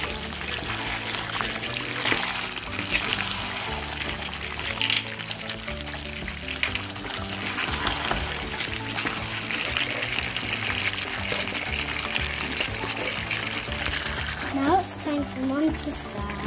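Spicy pork adobo with brown sugar sizzles and fries in a pan while being stirred, a continuous crackling hiss with scraping movement, under a speaking voice.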